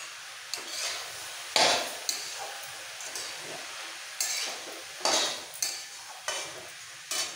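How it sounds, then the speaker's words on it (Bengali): Vegetables and peas for pav bhaji fry in a pan while a spatula stirs and scrapes against the metal in repeated strokes, with a soft sizzle running underneath. The sound is close, and no one speaks. "খুব ভালো করে একটু ভেজে নেব।"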